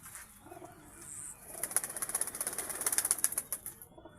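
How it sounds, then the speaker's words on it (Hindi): Pigeons shuffle and flap close by, a burst of rapid wing claps and fluttering building midway, with faint scratchy movement before it. "ये कबूतर हैं जी"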